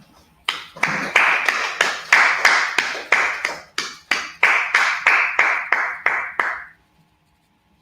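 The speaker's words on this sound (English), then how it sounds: "Let's clap it up." A group claps in a rhythmic pattern, each burst of claps repeating in a steady cycle, loud and close, then stopping abruptly into near silence.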